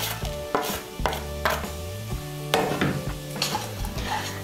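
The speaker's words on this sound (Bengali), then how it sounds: "এখন গুড়টা গলে যাওয়া পর্যন্ত আমি নারকেলটাকে নাড়াচাড়া করে নেব।" A utensil stirs grated coconut with date palm jaggery in a wok, giving repeated scraping and clanking strokes against the metal with a light sizzle under them and no talking.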